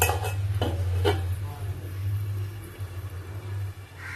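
A lid set onto a cooking pot of vegetarian ghati kochu curry: a few light metallic clinks and knocks near the start over a steady low rumble, then quiet cooking noise.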